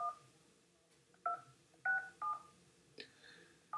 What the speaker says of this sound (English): So I'm going to call my office phone here.